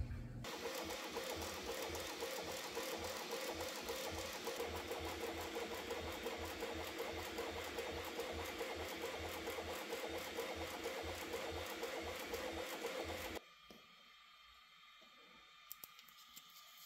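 3D printer running a print on a grid-textured PES build plate, a steady mechanical whirr with rhythmic stepper-motor buzzing that continues evenly for most of the stretch, then cuts off, leaving a quiet room with a couple of faint clicks.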